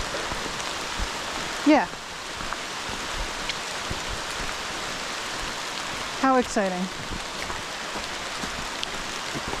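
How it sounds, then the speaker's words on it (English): Steady rain falls across a hiking trail during a summer storm, a continuous broadband patter with no letup, while a person speaks briefly twice over it. "I'm trying to figure out which way the storm came from"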